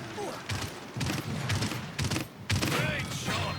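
Rapid bursts of gunfire from the hero shooter game Paladins, played on an older 2007 GeForce 8800 GT card, come in several loud volleys close together over a steady game backdrop, with a voice talking over parts of it.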